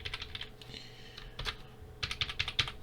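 Fingers tap on a computer keyboard in quick, uneven bursts of keystrokes with brief pauses between them, close and moderately quiet, with no speech.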